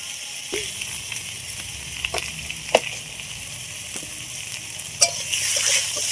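Turmeric mango chutney hisses and crackles in a hot pan while a spoon scrapes through it in several sharp, uneven strokes, the sizzle swelling slightly near the end with no voices.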